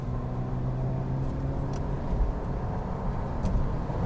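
A car accelerating and overtaking on a road, heard from inside as a steady low engine and road rumble that swells slightly, continuous and fairly loud with no talk.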